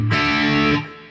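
A dense, buzzing burst of distorted electric guitar through a Boss Katana-50 Mk II modeling amplifier rings out for under a second, loud and saturated, then cuts off and fades quickly.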